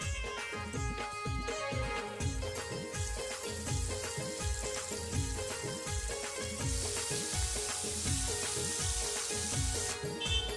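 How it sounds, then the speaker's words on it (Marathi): Semolina-coated squid laid on a hot griddle sizzles continuously and loudly up close, a dense crackling hiss with small popping bursts that holds steady throughout, with no talk. "तव्यावर सोडल्यावर कसं चरचरण्याचा आवाज येलो"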